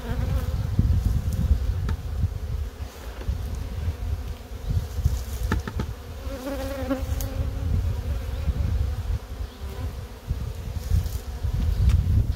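A dense, continuous hum of many honey bees buzzing close by around an open hive, steady and loud throughout, with faint rustling underneath.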